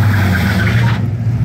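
A Pontiac Trans Am engine revving with brake and gas held together, a loud steady low rumble with a squealing, rubbing whine over it that cuts off abruptly near the end.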